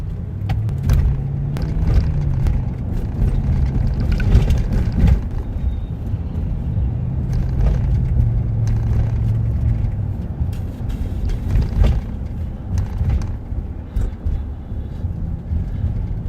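Road and wind noise through open car windows while a patrol vehicle drives: a steady low engine and tire rumble with gusty wind buffeting and occasional passing-traffic swells, no voices.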